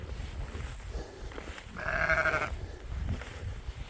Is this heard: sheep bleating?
yes